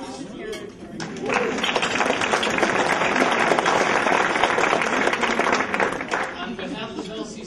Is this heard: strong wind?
no